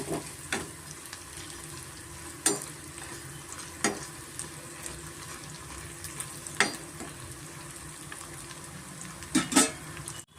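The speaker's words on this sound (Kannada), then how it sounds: "ನಾವು ಇಡ್ಲಿನ ಫ್ರೈ ಮಾಡ್ಕೊಬೇಕಾಗುತ್ತೆ ಕ್ರಿಸ್ಪಿಯಾಗಿ ಬರುತ್ತೆ" Leftover idli pieces fry crisp in hot oil on a high flame, a steady soft sizzle and crackle running throughout, punctuated by occasional sharp clinks of a utensil stirring in the pan, with no talking.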